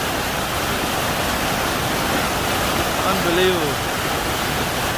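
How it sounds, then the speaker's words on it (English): Fast-flowing water rushing steadily through the Taxila water supply channel, a loud, continuous roar that fills the whole clip, with a man's brief exclamation over it. "Look how fast the water is going."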